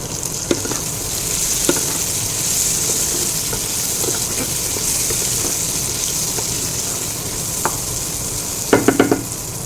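About a spoonful of ghee sizzling in a hot pan while frying for a paneer fried rice lunch, a steady loud hiss with a few clinks of utensils against the pan and no speech.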